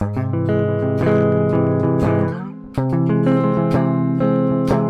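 Distorted electric guitar chords strummed on the bottom four strings in a steady rhythm, with a brief dip and pause midway before the strumming resumes, loud and close.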